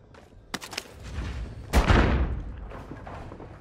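A frag grenade explosion in Call of Duty: Modern Warfare on Rebirth Island, with a sharp crack and a heavy boom whose rumble fades over a couple of seconds, following a few earlier gunshot-like impacts during the match.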